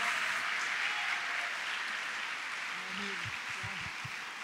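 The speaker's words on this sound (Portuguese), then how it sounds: "dando a melhor salva de palmas para Jesus" A church congregation at an Assembleia de Deus service in Brazil breaks into steady, dense applause that fills the whole clip, with a few voices faintly heard beneath it toward the end.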